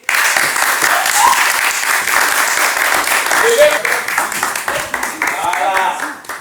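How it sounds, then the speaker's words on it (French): Loud, sustained applause from a studio audience at a speed dating show, dense and continuous throughout, with voices and cheering mixed in. "Applaudissez"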